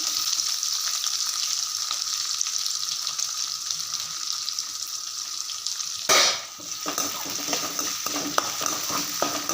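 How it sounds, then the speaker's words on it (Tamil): Steady sizzling of onions frying in coconut oil, with stirring scrapes and a brief clatter partway through, close and continuous. "நல்லா வதக்கிக்கலாம்"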